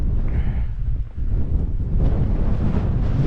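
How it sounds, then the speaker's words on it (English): Strong gusty wind buffets a wild camp on Stony Cove Pike in the Lake District, loud roaring rushes and microphone buffeting with a brief lull midway, no voices. "It's been pretty damn windy."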